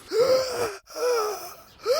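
A voice imitates gasping for air as a character bursts above water, three strained, wheezy inhaled gasps in quick succession, close and loud with brief silences between them.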